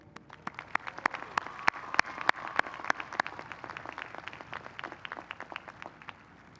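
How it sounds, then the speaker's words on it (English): Scattered, moderately distant applause for the graduating class of 2013 at a Cal State Fullerton commencement, with a few sharp individual claps standing out in the first half before the clapping thins toward the end. "Let's give a strong round of applause for our class of 2013"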